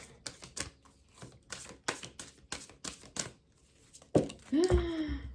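A deck of oracle cards is riffled and shuffled in a run of brisk papery bursts, close and fairly loud, ending in a sharper flutter as half the deck pops out and spills.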